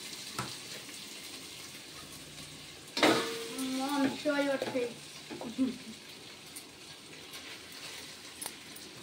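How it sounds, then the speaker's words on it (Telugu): Rice is stirred into a pan of tempered spices for jeera rice, giving a continuous soft sizzle with scraping. A louder burst of sound lands in the middle of the clip. "తర్వాత దీంట్లో రైస్ కలుపుకోవడం."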